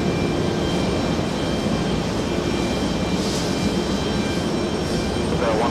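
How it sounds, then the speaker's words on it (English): Aircraft engines roar steadily on the runway at JFK Airport, a loud, constant broadband rumble and hiss that holds throughout without any break. "First Officer Lance is next for takeoff."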